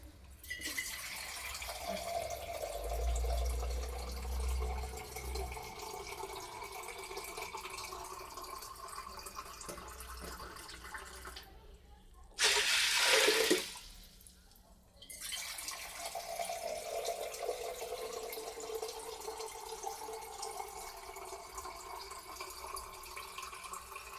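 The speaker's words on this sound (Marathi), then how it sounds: "आता आपण शिजण्यासाठी लागणारे पाणी टाकत आहोत।" Water splashes and trickles into a cooking pot for a long stretch, with one short louder gush of pouring in the middle, fairly quiet overall.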